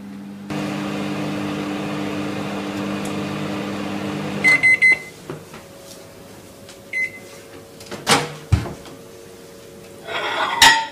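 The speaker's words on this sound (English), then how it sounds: "Microwave for 2 minutes and then remove and stir." A microwave oven hums steadily for several seconds while heating a chocolate brownie mixture, then stops with beeps, followed by door and dish clatter and clinks nearby.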